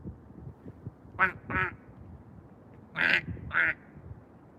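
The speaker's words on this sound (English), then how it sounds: "if I do a distressed duck call, they'll come here to try to rescue me?" Ducks quack on a Tokyo street in spring: two quick pairs of loud, nasal quacks stand out over quiet background hum, with a short pause between the pairs.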